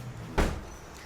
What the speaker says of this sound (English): Just shut the door. Shut the door.